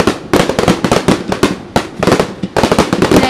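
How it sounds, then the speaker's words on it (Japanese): Loud fireworks boom and crackle over the water at the Tottori summer fireworks festival, launched from three points on the far bank, with dense overlapping bursts and brief gaps between volleys. "今対岸から3箇所から花火が上がってます。 左右そして中央にもドーンと上がってますね"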